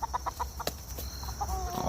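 A backyard chicken clucks in a run of short, close, rhythmic calls, with a sharper squawk partway through and a thin whistling tone near the end.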